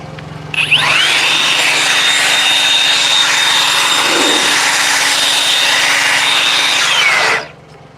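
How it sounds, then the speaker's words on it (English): A small handheld flex blower dries a BMW 116D after a maintenance wash, producing a loud, steady whooshing roar with a high whine that holds for about seven seconds before cutting off. "This is just the little flex blower."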